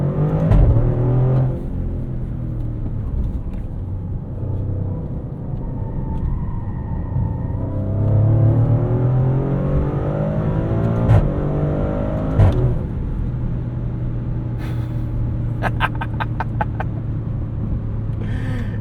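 A 2024 Maserati Grecale Trofeo with a twin-turbo V6, driven in Corsa mode in rush-hour traffic, accelerates hard with a loud, steady engine roar and rumble lasting throughout, heard from inside the cabin with a few brief clicks near the end.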